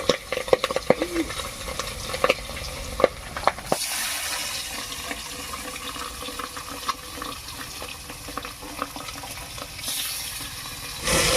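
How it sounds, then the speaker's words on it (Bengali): Pabda fish dropped into hot oil, with a few sharp pops and clatters at first, then a steady, close hiss of frying that swells slightly near the end. "তেল গরম হয়ে গেছে এবার মাছগুলো দিয়ে দিচ্ছি পাবদা মাছ ফেলে দিলে একটু ফাটে"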